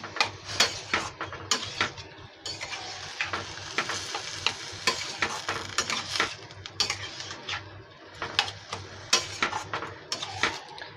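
Banana blossom and chickpeas sautéing in a pan: a steady sizzle with repeated scraping and stirring strokes of a spatula against the pan, close and moderately loud, with no talking.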